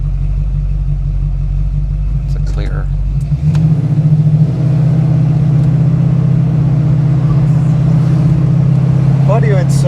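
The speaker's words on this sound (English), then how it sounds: "it's so hard to describe this engine sound, but it's just music" A 1974 AMC Javelin AMX's 401 V8 engine idles with a deep, steady rumble continuously, rising slightly in pitch partway through, with people talking over it.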